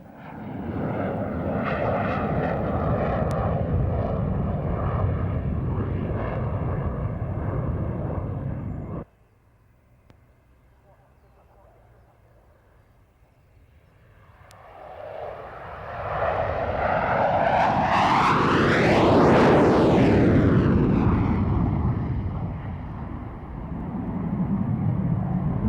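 A US Marine Corps F/A-18 Hornet jet roars loudly through an air show display, then fades to a near-silent gap before building into a powerful flyby that peaks and sweeps past close by with a strong Doppler shift.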